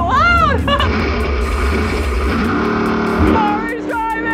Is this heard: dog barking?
no